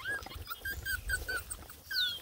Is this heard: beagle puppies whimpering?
yes